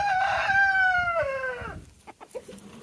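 A rooster crows once, close and loud, with a long falling cry over farmyard clucking in a chicken run, then softer clucks from the hens.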